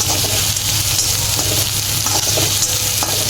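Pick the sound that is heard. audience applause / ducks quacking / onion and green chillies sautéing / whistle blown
onion and green chillies sautéing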